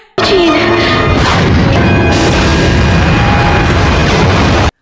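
An oxygen leak in a hospital room ignites from a shorted power socket: a sudden, violent blast erupts and keeps roaring, dense and very loud, with crashing debris layered through the sustained rumble.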